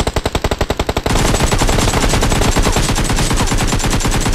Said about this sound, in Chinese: 但我听着刚才附近还有枪声